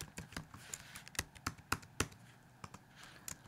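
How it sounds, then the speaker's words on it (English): Fingers type on a computer keyboard in irregular bursts of crisp, close key clicks, some strokes sharper and louder than others, with short pauses between. "I'm going to type in my name, and then the name of the class"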